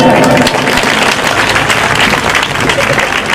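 Loud, steady applause from a large audience at a Bhim Jayanti celebration stage event, dense and continuous clapping filling the whole stretch without letup.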